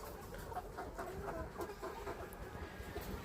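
Faint clucking from a group of layer chickens in an A-type pyramid cage, low and continuous, set against a steady background hiss.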